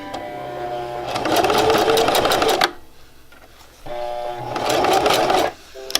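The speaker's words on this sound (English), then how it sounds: "There are guidelines on the sewing machine to help with that." A sewing machine stitches a pouch in two bursts of fast, even needle chatter, each lasting about a second and a half, separated by a quiet pause, heard close up.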